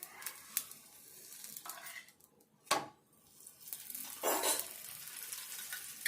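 A paratha fries in oil on a pan, giving a steady soft sizzle with a few louder bursts and a brief scraping or stirring noise partway through.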